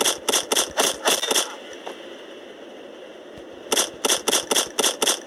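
Gunfire in a video game, Mr. Wolf's Adventures (LeneWolf), comes as two close, loud bursts of rapid, sharp shots, with a quiet gap between the volleys and no talking.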